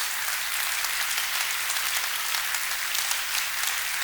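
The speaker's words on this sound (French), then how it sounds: "Est-ce qu'on peut acclamer le Seigneur Jésus?" A church congregation applauding and cheering in praise of Jesus, dense steady clapping filling the whole stretch with no gaps.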